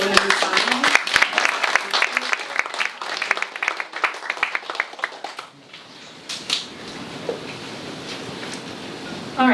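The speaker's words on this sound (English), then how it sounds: "applause for women in science" Audience applause at a conference session honoring women in science, a dense burst of clapping for about five seconds that thins out and fades into quiet room noise.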